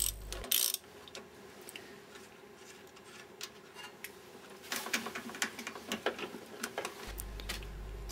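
Mechanical clicking and ratcheting as starter cable bolts are unscrewed on a Trabant engine, with sparse ticks early, then a denser run of close, moderately loud clicks in the second half, a short bright burst near the start and a low rumble at the end.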